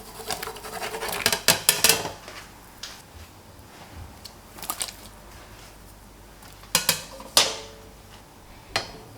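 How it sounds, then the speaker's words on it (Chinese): Homemade chive dumplings are dropped one after another into a pot of boiling water, making several close splashes and knocks against the pot in scattered bursts. "水开后放入饺子"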